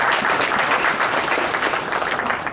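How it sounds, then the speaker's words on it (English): An audience gives steady, sustained applause for Brian at a YAL summit, a dense wash of clapping hands filling the room at even loudness throughout. "Give Brian a round of applause"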